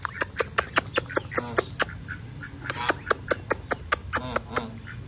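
Ducks being fed watermelon quack loudly and close in quick repeated bursts, with softer wet pecking and bird chatter in between.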